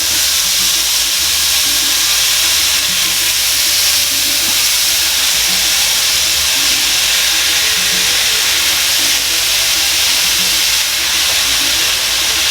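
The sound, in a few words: browning ground meat in a hot pan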